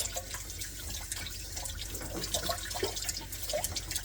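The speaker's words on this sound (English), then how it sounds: "Okay, now I'm gonna just rinse it off here in this bowl." Water running steadily from a tap into a bowl while a freshly dispatched quail is rinsed, a soft continuous splashing and trickling with faint drips, fairly quiet and close, no speech.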